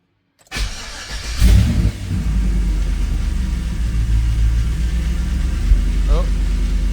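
An LS V8 swapped into an old Chevrolet Tahoe cranks and catches with a loud roar, then settles into a steady, deep rumbling idle that continues to the end.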